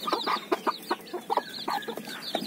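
A hen with chicks clucks in short, repeated bursts, joined by chick peeps and farmyard bird calls, with no talking.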